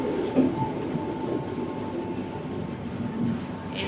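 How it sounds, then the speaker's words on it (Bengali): A Sri Lankan rail bus converted into a small train runs along the tracks near a station, giving a steady, close rumble with faint rail clatter and a brief squeal, and no voices. "চলে এসছে আমাদের ট্রেন নাগরলাগামা রেলওয়ে স্টেশনে"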